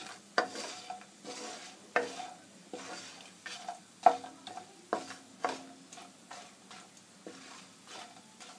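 Badi, dried lentil dumplings, roast in a dry pan, stirred with repeated scraping clacks of a utensil on the metal, each stroke sharp and fairly quiet, with a faint crackle between strokes.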